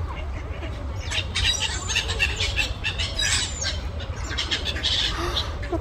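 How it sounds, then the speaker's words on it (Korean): Seagulls calling in a busy bird-filled spot in the canal city of Aveiro, Portugal, with repeated harsh squawks rising over a steady low rumble of outdoor background noise. "갈매기들이 애기애기하네."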